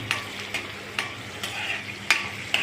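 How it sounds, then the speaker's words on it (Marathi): Garlic frying in hot oil sizzles steadily and close, with regular stirring scrapes and clicks roughly every half second. "आता आपलं लसूण तळून झालं आहे"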